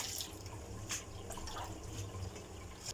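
Salted cabbage is rinsed in water for homemade kimchi, with soft splashing and trickling water plus scattered small drips and clinks, fairly faint and close.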